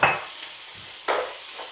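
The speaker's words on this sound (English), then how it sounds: "Sizzle." Chopped cheap olives frying in a pan, a hissing sizzle that fades, then a second fresh burst of crackling sizzle as more hits the hot oil, close and moderately loud.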